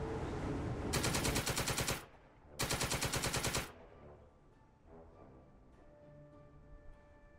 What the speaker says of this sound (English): I think we're just here laying down machine gun fire.